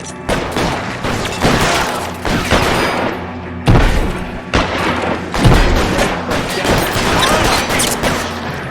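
Heavy sustained gunfire from several weapons in a war-game battle, a dense unbroken volley of loud overlapping shots and booms close by, with no voices over the racket.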